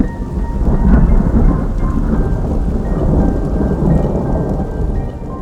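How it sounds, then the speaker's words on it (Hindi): A thunderstorm breaks during a mountain hike in Uttarakhand's Valley of Flowers, with steady heavy rain close by and deep rolling thunder rumbling throughout. No one speaks. "थोड़ी ही देर में बारिश शुरू हो जाती है।"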